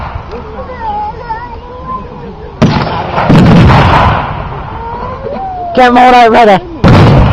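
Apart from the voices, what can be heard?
German mortar fire at a WW2 reenactment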